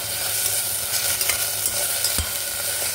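Mutton sizzling loudly in a pan after papaya paste is added, a dense continuous spitting and splattering close up with faint stirring scrapes; no voices.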